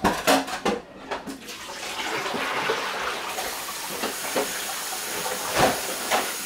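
Hot water runs from a kitchen tap while fish and vegetables are being prepared. A steady hissing gush continues for several seconds, with a few clattering knocks near the start.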